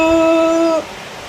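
A puppy lets out one sustained, high, thin whimper that holds steady for under a second, then breaks off abruptly into quiet background.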